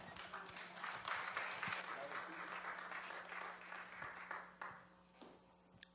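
Church congregation applauding during a worship service, a loud sustained burst of clapping that gradually thins out and fades toward the end.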